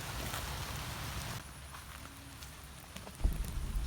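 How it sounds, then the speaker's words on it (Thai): Rain falling steadily across an oil palm plantation, a broadband hiss that softens briefly midway, then returns with a burst of louder low patter near the end, with no one speaking. "แต่ว่าวันนี้ฝนตกค่ะ"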